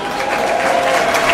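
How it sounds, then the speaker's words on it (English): Crowd at an international rugby match between Gibraltar and Sweden claps in a loud, continuous burst of applause close by. "Let's have a big round of applause for Jim."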